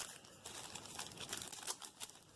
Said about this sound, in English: Put it into a little plastic bag.